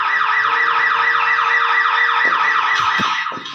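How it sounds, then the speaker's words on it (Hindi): A parked car's touch alarm wails close by in a fast, repeating electronic siren sweep that carries on steadily, with a few faint clunks near the end. "दरवाजे के पास खड़ी गाड़ी का टच अलार्म आवाज करने लगा"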